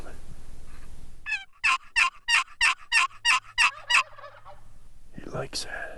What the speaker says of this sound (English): another gobbler answering Bob's calls